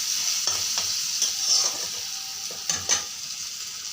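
Potatoes fry in a pan with salt and turmeric, a constant close sizzle broken by several sharp scrapes and knocks of a spatula stirring them.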